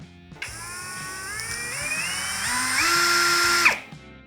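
A Procraft 20V cordless drill-driver whirs up from rest, its pitch climbing in steps as the speed rises, then cuts off abruptly near the end; no voices.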